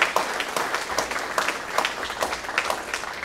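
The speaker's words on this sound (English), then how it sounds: "if we could just give him another round of applause" A round of applause at the ribbon-cutting ceremony for the National Archives Digitization Center, made up of a small crowd's individual claps, close and irregular, lasting about three seconds.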